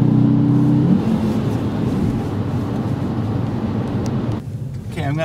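A manual-transmission car floored in third gear gives a loud, steady engine roar with a strong low hum, easing off slightly toward the end.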